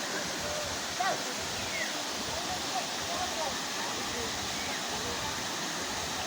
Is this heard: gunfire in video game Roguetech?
no